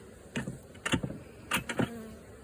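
Honey bees buzzing close by during a fall hive inspection in South Carolina, several short passes of droning wingbeats that swell and fade around a quiet background.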